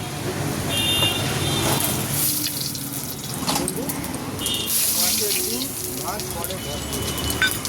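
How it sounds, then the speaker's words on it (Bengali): Whole spices for tempering hit hot oil for a Bengali vegetarian white curry, a steady, close sizzling hiss lasting throughout with faint kitchen noise. "ফোড়নটা দিয়ে নিই"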